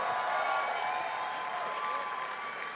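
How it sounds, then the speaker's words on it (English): A fight crowd at a Shamrock bout between Aaron Derrow and Josh Weston applauds the fighters, a steady, distant roar of clapping and crowd noise filling the whole short stretch. "Let's give both of these fighters a big round of applause"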